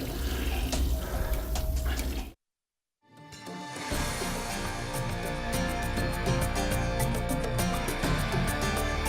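Water pours steadily from a tap while hands are washed, a continuous splashing rush broken by a short silent gap, then resuming loud and close alongside a bright layered musical tone.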